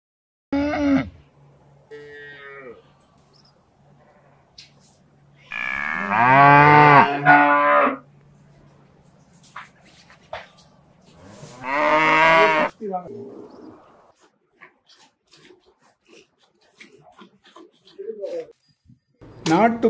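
Native cows on a dairy farm moo in several long, loud lowing calls spaced a few seconds apart, with quieter farm noises and faint clinks between them.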